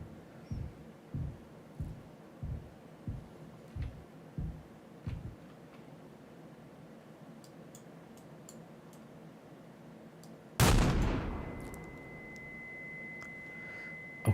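A single gunshot fired at Swansea in the horror video game Mouthwashing. It is a sudden loud crack after a stretch of quiet ticking, followed by a thin, sustained high ringing tone.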